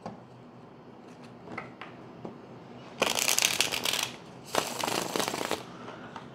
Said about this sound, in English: Get two shuffles, that's one.